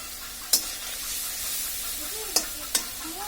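Fish fries in a pan with a constant hissing sizzle, punctuated by three sharp utensil clicks.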